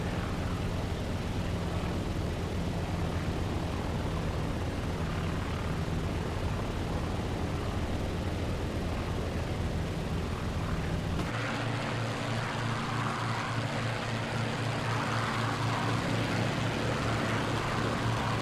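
A warbird's piston engine roars steadily in Microsoft Flight Simulator as the plane passes 300 knots; the dense, constant drone shifts abruptly in character partway through and continues with no talk.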